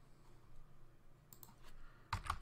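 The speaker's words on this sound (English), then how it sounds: "we're going to type the following" A few soft keystrokes on a computer keyboard while a command is entered in a Linux terminal, faint clicks in a quiet room followed by a short, louder burst of typing at the end.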